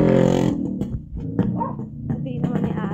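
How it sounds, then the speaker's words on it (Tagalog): An angry dog growls and barks in short bursts outdoors on a walk, close and loud, with a person talking around the sounds. "May asong galit"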